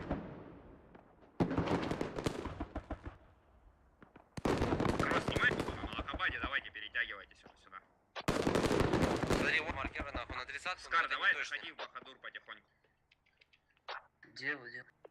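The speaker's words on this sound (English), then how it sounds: "If I know it right, he's shooting a Beowulf." Rapid bursts of Beowulf rifle gunfire in a large-scale military shooter game battle, three long loud volleys of shots separated by short pauses, with voices talking throughout.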